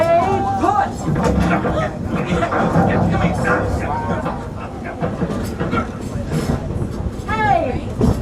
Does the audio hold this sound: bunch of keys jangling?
no